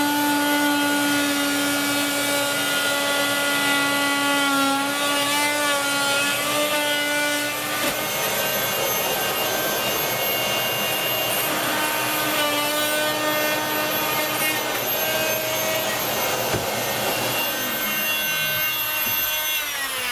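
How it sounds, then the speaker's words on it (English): A power tool grinds and saws through drywall beside a window opening during a window installation, loud and continuous with shifting whining tones, no voices. "The next part is he's going to cut the drywall."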